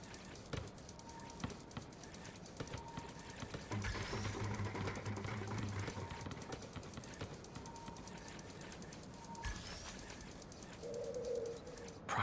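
Pigeon cooing in the video game Marvel's Spider-Man Remastered, soft repeated coos from a bird perched near a small robot, heard faintly beneath a steady, busy city and game soundscape with mechanical whirring.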